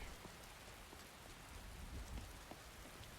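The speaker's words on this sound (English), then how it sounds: "Very rainy." Rain falls steadily in Skyrim, a faint, even hiss of drops on the ground with scattered louder patters and no voices, continuing unbroken for a few seconds.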